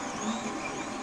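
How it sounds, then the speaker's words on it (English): Anet A8 3D printer running nearby, a continuous whirring drone of fans and stepper motors with a faint tonal hum, steady and moderately loud for just over a second. "Excuse the noise, my Net A8 is still going over here."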